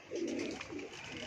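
Pigeon cooing close by in a loft-flying setting, a steady low throaty coo repeating over about a second with soft wing and ambient noise beneath.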